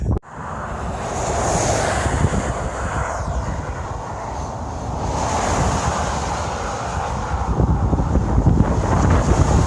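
A strong headwind roars steadily past the microphone during a cold bicycle ride in Arizona, a loud, continuous buffeting rush with no voices.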